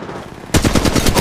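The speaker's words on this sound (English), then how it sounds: "Opening fire on the enemy." Automatic gunfire in the mobile game Apex Legends Mobile, starting abruptly after a quiet half-second and continuing as a loud, rapid burst of evenly spaced shots.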